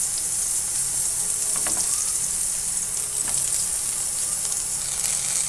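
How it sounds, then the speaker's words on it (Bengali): Continuous hissing sizzle of eggplant slices frying in hot oil in a pan, steady and close, with a couple of soft stirring or turning sounds. "বাকিগুলো দিয়ে আমি ভেজে নেবো এইভাবে।"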